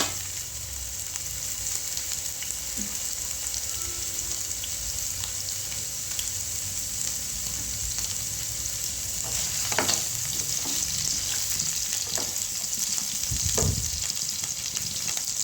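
Paneer pieces frying in hot oil give a steady, continuous sizzle throughout, broken by a few louder crackles and stirring scrapes near the end; no voices are heard.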